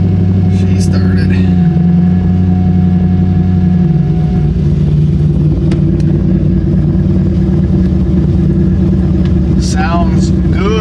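A 450hp car engine runs steadily just after starting, a loud continuous low rumble at idle that holds throughout with only small shifts in pitch, plus a few faint higher squeaks near the start and end.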